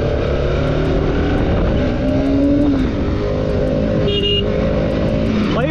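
A new motorcycle rides through rain, with a loud, close engine drone and shifting revs under a steady wash of wind and road noise and no talking.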